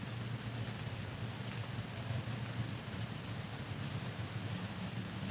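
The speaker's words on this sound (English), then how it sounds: "it was like the rain, it still ain't letting up. I know you hear it. Listen, it sounds beautiful," Steady rain pours outside as an even, continuous hiss of dense drops, faint and distant, with no talk or other sounds.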